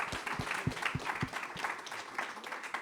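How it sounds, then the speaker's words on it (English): Audience applause for the final panel of a conference day, a short burst of steady crowd clapping with a few louder, nearer claps standing out at the start. "Big round of applause for our final panel of the day."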